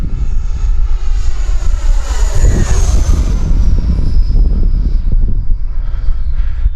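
An E-flite Viper 90mm electric ducted-fan RC jet makes a high-speed pass, its loud turbine-like whine sweeping past close by with a Doppler rise and fall, then fading off, with no talking.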